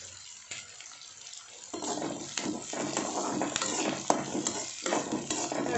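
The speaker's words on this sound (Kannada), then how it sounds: "ಇವಾಗ ಇದು ಸ್ವಲ್ಪ ಫ್ರೈ ಆಗಲಿ." Green chillies and onion frying together in a pan for a tomato rasam and keerai palya meal, a quiet start building to steady close sizzling with stirring scrapes, no voices.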